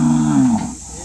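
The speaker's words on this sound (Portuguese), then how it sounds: "Zordana, olha os boi que os meninos gostam aí" A rodeo bull gives one deep, loud moo close by, falling in pitch before trailing off.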